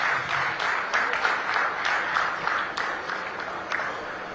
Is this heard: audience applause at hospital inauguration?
yes